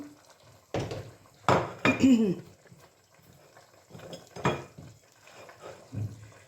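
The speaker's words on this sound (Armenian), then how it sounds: "հիմա բազուկն եմ լցնում" Soft thuds and scraping of chopped beetroot tipped into a pot of borscht, a few clattering bursts of kitchen noise.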